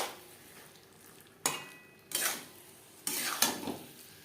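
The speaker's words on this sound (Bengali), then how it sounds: "2 মিনিট নাড়াচাড়া করে নেওয়ার পর দিয়ে দেব সেদ্ধ করে রাখা আলু।" A utensil stirs boiled potato pieces into a fish head curry in a pan, giving three separate scraping, clattering bursts against the metal between quiet pauses, close and with no talking.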